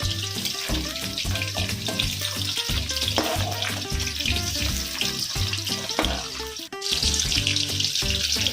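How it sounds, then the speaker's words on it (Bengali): Chicken pieces for chili chicken fry in oil over medium heat, a loud steady sizzle with occasional clinks and scrapes as the pieces are turned; a brief dip near the end before the crackling resumes. "দেখুন এগুলো সুন্দর করে লাল লাল করে ভাজা হয়ে গেছে"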